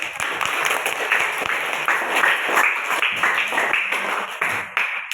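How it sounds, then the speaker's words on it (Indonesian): Schoolchildren in a classroom clap their hands together in a dense, steady round of applause that continues for several seconds, fairly close and loud, with no talk over it. "Beri tepuk tangan"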